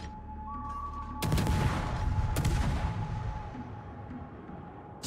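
Warship guns firing in the naval battle game World of Warships, from the destroyer Yukikaze: a heavy broadband boom salvo near 1.2 s and another around 2.4 s, loud and close over a steady engine and ambient rumble, with no voices.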